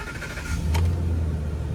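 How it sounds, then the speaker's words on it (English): A Ford truck, just diagnosed for stalling and no acceleration, cranks and catches, a brief starter whir giving way to a steady low idle that settles close by, with no voices. "now we should be able to start the vehicle up"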